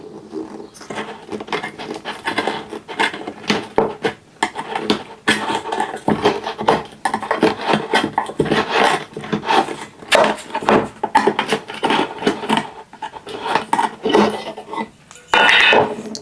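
Propan wood stain can being opened and handled: a busy run of close scraping, knocking and metallic clinks with some rubbing and rasping, loud and irregular throughout.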